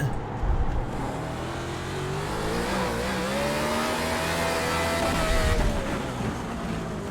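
A NASCAR race car engine in iRacing on the Chicago street course revs continuously and loudly, its pitch climbing gradually as the throttle opens, then easing off near the end, with no voices over it.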